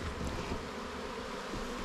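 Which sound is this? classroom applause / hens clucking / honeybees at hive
honeybees at hive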